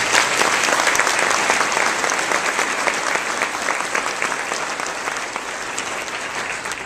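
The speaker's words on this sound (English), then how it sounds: "Let's give the task force members a round of applause." A large audience applauds task force members at a civic gathering led by a mayor, steady dense clapping filling the room at constant loudness and tapering only slightly toward the end.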